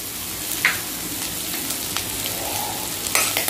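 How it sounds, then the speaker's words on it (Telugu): Chopped onions frying in a pan for egg fried rice, a steady crackling sizzle with occasional sharper pops and a faint clink, close and continuous. "ప్యాన్లో ఆనియన్స్ కట్ చేసుకుని వేసుకోండి"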